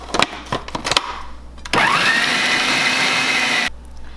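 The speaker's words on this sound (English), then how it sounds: "I'm gonna turn on my blender again" An electric blender grinds Thai green curry paste with spices and salt: a few short clattering bursts, then a loud steady whir that spins up and runs for about two seconds before cutting off.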